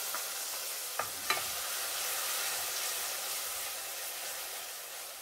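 Ground onion paste sautéing in a pan with cardamom and cinnamon, giving a steady, even sizzle with a couple of soft utensil taps near the start.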